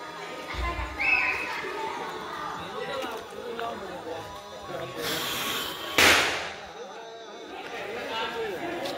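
Firecrackers go off at a Tripuri Purnima festival gathering. Two sharp, loud bangs, one early and one later, ring out over constant crowd chatter and nearby voices.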